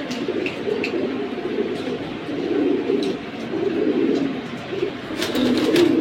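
Pigeons in a collection of military and silver hammer breeds coo in repeated low, throaty phrases, several birds overlapping at close range with faint chirps in the background.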